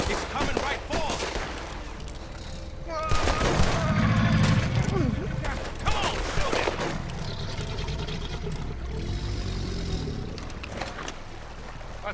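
Gunfire while shooting an alligator in Red Dead Redemption 2, sharp repeated shots ringing out against loud ambient game sound, with voices talking over parts of the action.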